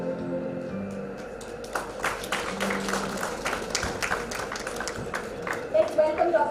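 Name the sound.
audience applause at a conference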